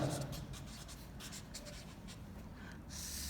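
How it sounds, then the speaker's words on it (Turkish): A pen scratches across paper while an angle is drawn during a fifth-grade maths lesson, a few quick strokes alone with no talk. "Dördüncü açımızı da başka kalemle yapalım."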